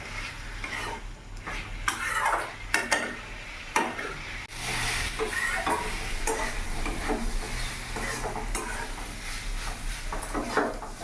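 Fried potatoes tumble into a hot pan of chicken masala fry over a raised gas flame, giving a steady sizzle broken by repeated scraping and clattering stirs, close and fairly loud with no talking.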